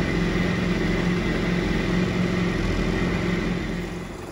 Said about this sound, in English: Next, start the engine to warm up the ski.